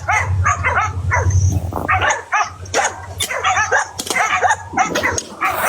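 Dogs barking and yipping near a house under construction, a rapid, loud run of overlapping barks and whimpers over a low engine-like hum.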